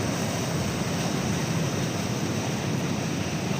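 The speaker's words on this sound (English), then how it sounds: "The wind rolling in over the Isle of Wight." Constant broadband rush of wind and rough, choppy waves at sea off the Isle of Wight during a race start from Portsmouth, loud and unbroken, with heavy wind buffeting the microphone.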